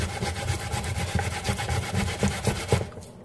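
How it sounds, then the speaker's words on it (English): Plantain being grated by hand for plantain porridge, a steady rhythmic rasping and rubbing scrape repeated stroke after stroke, close and fairly loud, with no talking. "I'm almost finished grating the plantain"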